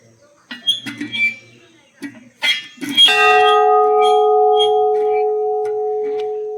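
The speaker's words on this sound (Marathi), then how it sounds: "समोरच आहे इथे घंटा" A few brief voices and footsteps in a temple, then a single bright strike of the temple bell rings out and hums on in a long, slowly fading sustain.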